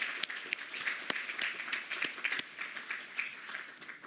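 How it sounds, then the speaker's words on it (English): An audience at a closing Q&A session of a tourism organization gives a steady round of applause that fills the whole stretch, moderately loud and even, with no voice over it. "I think we all deserve a round of applause."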